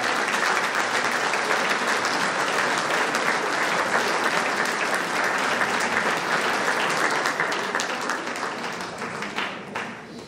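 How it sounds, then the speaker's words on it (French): A crowd at a volunteer and sports awards ceremony in Soustons applauds steadily as a 70-year-old volunteer is welcomed, the dense clapping holding for about ten seconds before easing slightly at the end. "accueillir et applaudir Alain Castello, un jeune de 70 ans."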